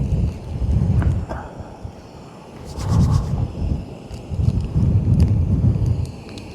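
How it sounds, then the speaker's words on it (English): Gusty wind at City of Rocks outdoors, rumbling and buffeting in low swells that rise, ease off, and surge again, with a few faint clicks over the steady rush. "the wind picks up"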